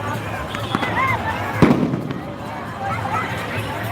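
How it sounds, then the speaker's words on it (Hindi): Firecrackers and fireworks pop and crackle around a crowded riverside ghat during Chhath Puja, with one sharp close bang standing out over a steady festive crowd murmur. "चारों तरफ बम पटाखे वगैरह फट रहा है"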